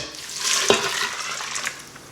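Vegetable broth made from bouillon mixed with water pours into an Instant Pot, a short, close splashing trickle with a brief plop partway through.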